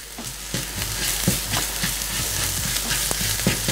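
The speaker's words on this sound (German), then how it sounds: "jetzt geben wir noch einen Knoblauch dazu. Den verteile ich gleich so mit dem Kochlöffel." Garlic is stirred into a frying Grammelknödel filling with a wooden spoon, giving a loud, close sizzle broken by repeated scraping and tapping strokes of the spoon against the pan.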